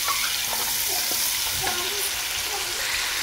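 Pasta ingredients frying in a pan with salt and black pepper, a dense steady sizzle with light stirring taps throughout.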